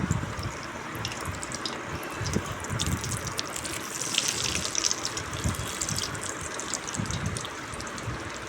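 A chana dal puri deep frying in hot white oil in a kadai, giving a steady close bubbling hiss with small crackles throughout, fairly quiet and without talk.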